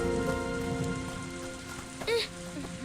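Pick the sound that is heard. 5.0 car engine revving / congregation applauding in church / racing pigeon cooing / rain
rain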